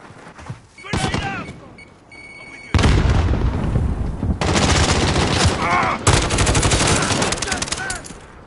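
A grenade bursts in a video game shooter among several loud, sharp blasts and rattling gunfire. The heavy detonations come in clusters, and voices call out between them.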